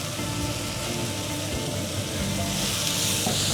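Minced garlic sizzles in a pan alongside softened vegetables, a dense, even frying hiss that stays loud and constant from start to finish.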